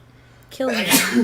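A single sharp sneeze bursts out loud and close after a brief quiet breath, with a voice speaking right after.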